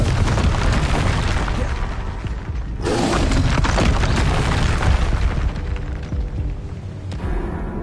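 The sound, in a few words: Confringo fire spell explosion from the video game Hogwarts Legacy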